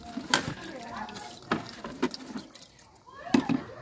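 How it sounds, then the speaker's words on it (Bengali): Duck curry being stirred in a pan with spice water and a little plain water, giving a few scraping, clattering strokes of a spoon against metal, moderately close with a soft background hiss. "আমি কিন্তু একটু নাড়িয়ে চাড়িয়ে নেবো"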